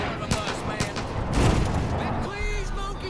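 Gunfire in the video game Far Cry 5: a rapid volley of shots rattling over a low rumble, with a player's voice talking over it.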